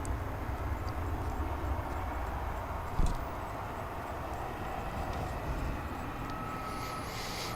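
A FedEx aircraft at DFW International Airport gives a steady, distant jet engine roar over wide broadband rumble, with a brief thump partway through and faint high whines.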